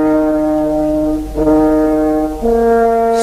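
A long, steady brass-like horn blast sounds as a victory signal in a 1968 Romanian radio play, holding one pitch before shifting lower partway through, loud and close with no voices over it.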